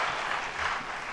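Crowd applause at a televised presidential debate, a steady dense wash of clapping that holds at an even level through the whole short stretch.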